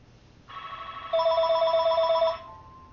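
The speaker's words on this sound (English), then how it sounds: "Excuse the phone ringing." A telephone rings nearby, a single sustained electronic trill that steps up louder partway through and then stops, heard alone with no talk.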